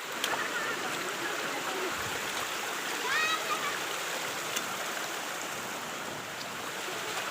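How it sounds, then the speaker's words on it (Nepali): A waterfall pours steadily close by, its broad, constant rush of falling and splashing water filling the whole clip without letup; a faint voice is briefly audible under the roar. "झर्नाबाटै पानी झर्दैछ हैन"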